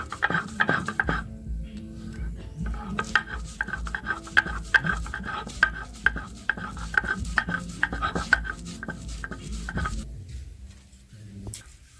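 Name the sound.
grinding soaked chana dal into paste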